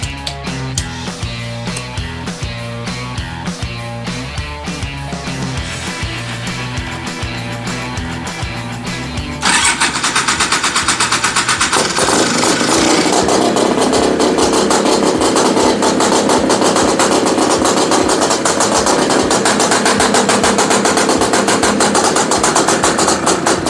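A Honda Odyssey FL350 engine cranking in loud, rhythmic pulses for about nine seconds, then catching and running at a steady, loud, raspy idle, close up with no talking.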